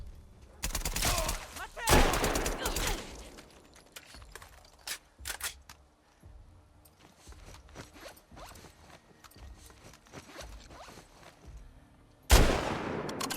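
Bursts of rapid gunfire in The Last of Us Part II Remastered on PC, some loud and close, others scattered and sharper, with quieter clicks and rustling between volleys.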